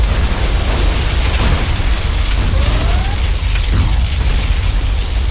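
Particle cannon firing in Command & Conquer Generals Zero Hour, a dense, continuous roaring blast with crackling bursts and a brief descending whine, loud and sustained without pause.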